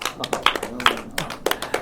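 A small comedy club audience claps in a brief, scattered patter of applause, fairly close and irregular, lasting under two seconds.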